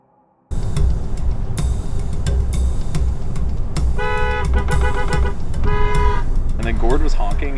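A car horn toots in short repeated bursts, loud and close, over steady road and vehicle noise during a European cycling race, with speech also present.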